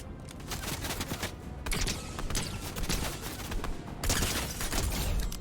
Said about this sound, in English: Oh, are you shooting at me?